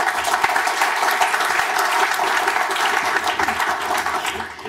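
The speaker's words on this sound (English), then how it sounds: "Give them please a big round of applause." A London television-industry panel audience claps for the panelists in a loud, dense, continuous round that holds steady throughout and tapers slightly at the very end.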